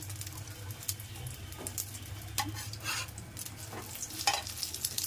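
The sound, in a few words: frying bread slices in a pan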